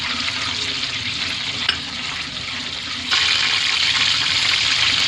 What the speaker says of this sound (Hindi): फ्राई पैन में डालेंगे घी और इसमें डालेंगे हम ये साबुत मसाले, ये हल्का सा फ्राई करेंगे।